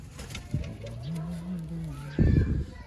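Pigeons of a breeding pair give one soft, close, low coo, with a nearby human voice and a short burst of wing flutter or handling.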